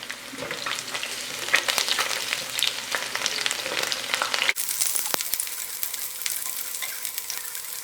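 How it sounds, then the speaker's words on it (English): Garlic frying in hot oil, a loud, dense crackling sizzle up close with stirring scrapes, which drops to a quieter, thinner hiss partway through. "So we just saute the garlic until light brown."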